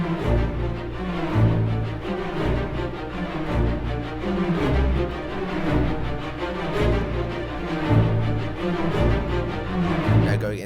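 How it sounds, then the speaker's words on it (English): Full orchestra playing the action motif from a film score, high strings doubling the trumpet line over driving low brass and percussion, loud and dense throughout with no voices. "we have the high strings pretty much replicating what the trumpets are doing"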